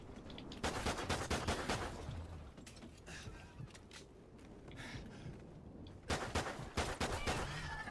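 Sustained automatic gunfire from a shooter video game's Extinction mode rattles in dense, loud bursts, easing off midway before a second heavy volley; no one talks over it.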